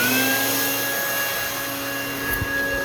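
A DIY supercharger blower fitted to a '91 Chevy S10 runs in a steady, loud whine and whoosh, close by, with a faint thump near the end.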